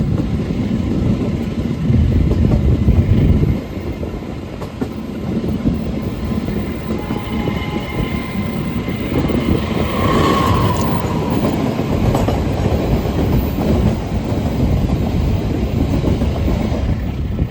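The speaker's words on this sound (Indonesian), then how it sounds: "Kereta api Argo Semeru berhenti sebentar dan ini langsung berangkat." The Argo Semeru executive passenger train pulls away from Kertosono station, heard from on board as a steady low rumble of wheels and carriages with faint rhythmic clatter and occasional squeals, continuous and fairly loud.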